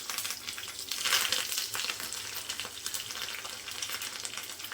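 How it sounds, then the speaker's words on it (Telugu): Spices for a tomato dal tempering crackle and sizzle in hot oil, a busy close frying hiss with rapid pops throughout and no one talking. "ఇంక ఇవి అయితే పోపు అయితే వేగిపోయినాయి"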